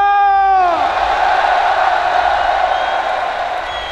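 At a car tuning show, a loud crowd applauds and cheers the organisers: a rising shouted whoop opens, then dense roaring clapping and cheering carry on steadily to the end.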